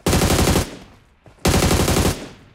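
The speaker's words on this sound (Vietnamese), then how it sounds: "có tiếng súng bên trái này" Gunfire in PUBG Mobile: two rapid automatic bursts of about half a second each, loud and close, separated by a short quiet gap with a faint single report.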